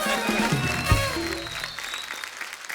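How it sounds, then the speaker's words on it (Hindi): Studio audience applause at a television comedy talk show, greeting two celebrity guests as they come on stage; a steady wash of many hands clapping close and loud, with cheering voices mixed in. "जोरदार तालियां करण और बिपाशा के लिए।"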